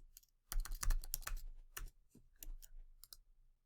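Computer keyboard typing and mouse clicks while logging into a school district web portal, a quiet tapping that starts after half a second, comes in uneven bursts, then trails off into a few scattered clicks.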